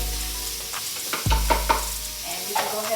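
Green peppers and purple onions sizzle and crackle in a hot pan, with a few clattering scrapes as they are stirred, close up and with no talking.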